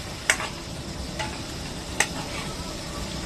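Tomatoes and cumin spice fry in oil with a soft, steady sizzle at low volume. A few sharp clicks of a utensil against the pan are heard, and no one speaks.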